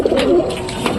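Pigeons coo inside a pigeon loft in the evening, with soft, close throaty murmurs clustered at the start and near the end, and a steady low room hum underneath.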